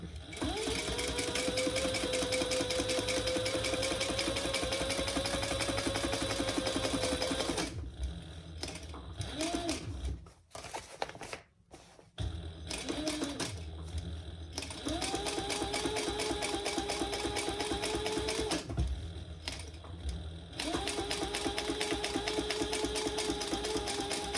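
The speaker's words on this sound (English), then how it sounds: "So now we're going to just top stitch that." A sewing machine top-stitches a diaper backpack, its steady motor hum running in long continuous bursts with a brief pause midway, close and fairly loud.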